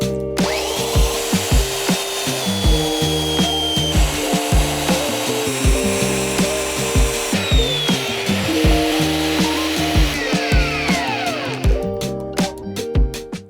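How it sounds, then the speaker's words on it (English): Excess sole material is trimmed from handmade leather boots with a cutting tool, making repeated rasping, sawing strokes at a steady rhythm, close and fairly loud, over a tonal background, with no talking. "now all I have to do is cut off the excess"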